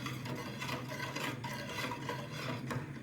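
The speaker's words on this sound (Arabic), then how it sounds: "أنا راح أستمر بالتقليب بالطريقة هذه إلين ما نحصل على القوام المطلوب" Chocolate pudding mixture with a spoonful of Nescafé to come, stirred steadily in a pot: a continuous scraping, rubbing swirl with soft rhythmic strokes, close and fairly quiet, with no talking.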